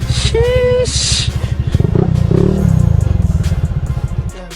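A Yamaha MT-15 motorcycle idling nearby, a loud rapid single-cylinder putter with a brief rev, while voices talk over it and a short high beep sounds early on.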